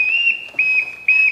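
A bosun-style whistle blown to summon children in a high school stage production of The Sound of Music, sounding as three shrill, piercing blasts with short gaps, loud and close with no voices.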